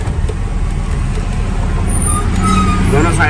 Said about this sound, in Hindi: दोनों साइड से गाड़ियाँ आ रही हैं भाई